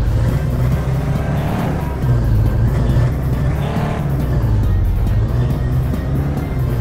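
A monster truck engine roars without pause in an Android offroad racing game, loud and close, its pitch rising and falling as the truck works the throttle, with no voices.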